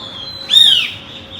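A single bright bird chirp, close and clear, rises and falls in one short call against a quiet background.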